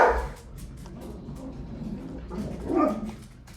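Dogs bark and whimper indoors, a short bark at the start, then faint whines and low grumbling, with another brief bark near the end, fairly quiet.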